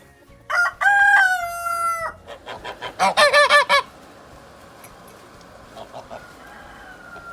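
Backyard chickens in a summer garden call out loudly nearby in two bursts, a long drawn cry followed by a quick run of pulsed clucks, then fading to quiet outdoor background with a few faint calls.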